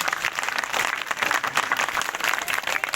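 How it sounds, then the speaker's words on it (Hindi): A crowd at a political gathering claps in welcome, a dense, even roar of many hands throughout, fairly loud and without speech. "सारे ताली बजा करके स्वागत कर देंगे।"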